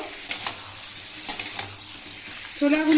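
Soaked chickpeas hit a pan of frying spices, a soft sizzle with a few light clatters of stirring, then a louder hiss swelling up near the end.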